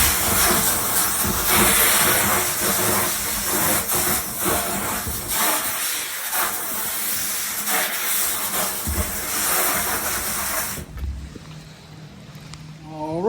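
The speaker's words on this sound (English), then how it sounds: "we're gonna go outside and rinse that tank." Water sprays steadily as a 100 gallon aquarium tank is rinsed outside, making a loud, continuous hiss that runs for about eleven seconds and then cuts off, leaving a quieter background.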